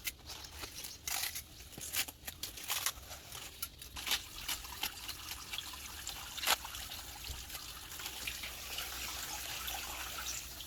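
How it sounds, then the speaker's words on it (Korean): Radish greens rinsed under a gently running kitchen tap, with soft, quiet trickling water and intermittent splashes and rustles as the leaves are shaken by hand. "이렇게 살살 흐르는 물에 너무 이렇게 막 손으로 너무 주물르면 풀려 나니까 이렇게 살살 흔들어서 이렇게 해서 건져주세요"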